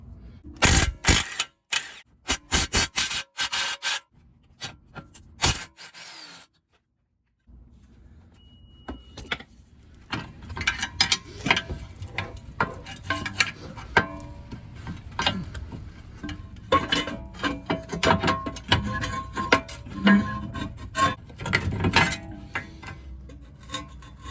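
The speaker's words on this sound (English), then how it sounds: "Now take your 17mm socket, and you have two nuts and a bolt. Remove those." A 17mm socket wrench clinks and clicks while nuts and a bolt come off a 2004 Toyota Sienna during ball joint replacement, with close, irregular metallic taps and rattles, a brief silent gap, then more busy clatter.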